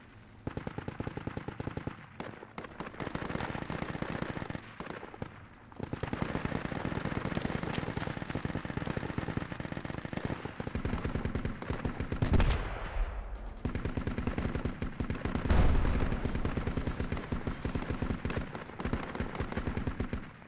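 Rapid bursts of gunfire from the video game Project Reality's insurgency mode, dense repeated shots over a continuous battle din, with loud low thumps near the middle and later.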